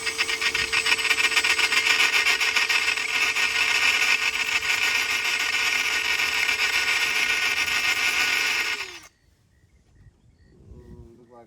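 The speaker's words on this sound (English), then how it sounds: "You just want to drill that rivet out." A power drill bores out a rivet on the cable of a fourth-generation F-body convertible top, a loud steady grinding whine that continues for about nine seconds before the motor stops, leaving faint handling noise.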